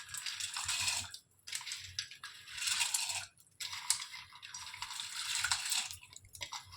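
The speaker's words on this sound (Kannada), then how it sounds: "ಈಗ ಹುಳ್ಳಿಕಾಳು ಹಾಕ್ತೀನಿ." Sprouted horse gram tipped into a pot of water for a rustic sambar, giving repeated bursts of pattering, splashing clatter with brief pauses between pours, close and fairly loud.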